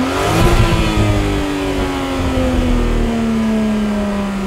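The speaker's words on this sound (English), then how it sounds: "this is what they sound like from the outside" A 2021 Jaguar F-PACE P400 SUV revs its engine, heard from outside near the oval exhaust tips, a loud, deep, sustained roar whose pitch climbs sharply and then holds high, with no talking.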